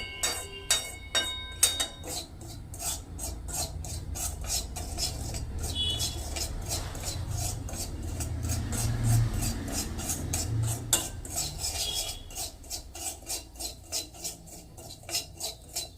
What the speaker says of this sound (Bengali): সুজি একদম সব সময় নাড়তে হবে কন্টিনিউয়াস।